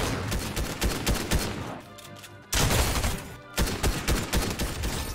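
Gunfire in Fortnite rattles out in fast, loud automatic bursts, one brief pause breaking the barrage before rapid shots resume, near and dense with no voices over it.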